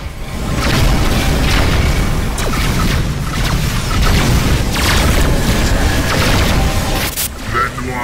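Missile explosions in the space combat game Rebel Galaxy: loud, continuous rumbling booms and crashing blasts layered over engine roar, with a voice talking over the barrage.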